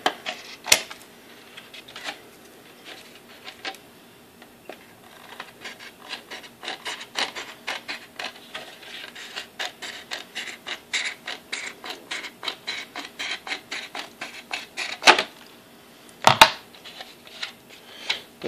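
Sharp edges are trimmed off a plastic aquaponics radial flow filter, producing a steady run of rapid rasping, scraping strokes close by, with a couple of louder knocks near the end.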